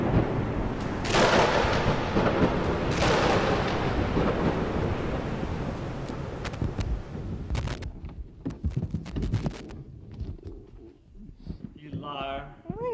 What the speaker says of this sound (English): It's time for a tropical storm.